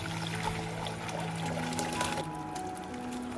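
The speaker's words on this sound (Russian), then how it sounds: "добавляю оставшийся суп вместе с фасолью" Thick soup with red beans pours steadily into a cooking pot, a continuous close liquid splash and trickle over soft background music, with no talking.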